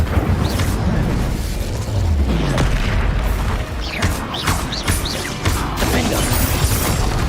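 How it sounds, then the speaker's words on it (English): Incendio fire spell blasting in Hogwarts Legacy: a sustained roaring, booming whoosh of flame with crackling crashes and sharp magical zaps scattered across several seconds, loud and busy throughout. "Incendio."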